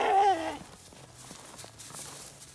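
A sheep gives a short bleat at the start, followed by soft shuffling hoof steps and faint low rumbling in a farm barn, close by, with no talking.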